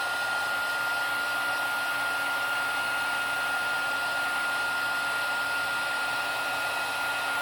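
Heat tool melting Distress embossing glaze on a craft project, a loud, constant close-up blowing whir that runs without a break.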